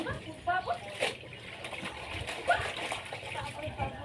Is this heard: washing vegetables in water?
yes